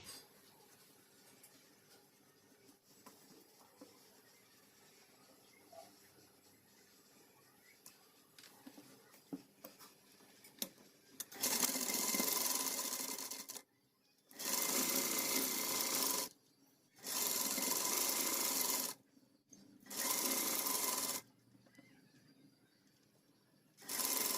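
Sewing machine stitching the corners of a child's Pathani kurta, running in four loud bursts of a few seconds each with short pauses between, after a quiet stretch of faint handling noise.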